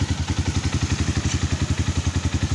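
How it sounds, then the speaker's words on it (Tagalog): A Honda XR200 motorcycle engine runs after an overhaul with a new connecting rod and a TMX 155 carburetor, idling close by in a steady, rapid, even thump with a slight clutch clatter and no talk. "So maganda na itong motor at umandar na."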